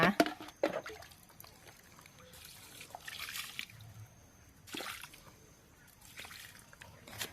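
Liquid fertilizer poured onto potted caladium plants, heard as soft, intermittent splashes and trickles that come and go in short bursts. The pouring is quiet and close.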